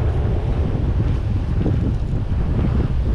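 Strong, constant wind buffeting the microphone on the shore of Calaguas Island, Philippines, with crashing surf rumbling low underneath.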